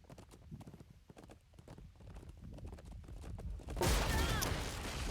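Horse hooves in the video game Chivalry 2 clip-clopping in a quick irregular rhythm, close and clear, before a loud burst of rushing noise and clatter takes over the last second.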